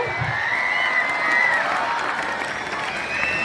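Schoolchildren at a Children's Day celebration shout and cheer together, a bright, continuous wash of young voices with some clapping, held at a moderate level throughout.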